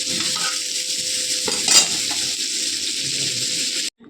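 Food frying in a pan, a steady close sizzle and crackle running throughout with one brief louder burst of spitting before it cuts off abruptly.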